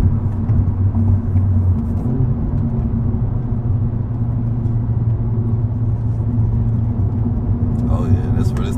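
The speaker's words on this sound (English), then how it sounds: "About to do some downshifting on this ramp." An Acura Integra Type S downshifting on a highway ramp: steady loud engine drone and road rumble inside the cabin, with harmonic pitch shifts as the revs change and a brief rise near the end.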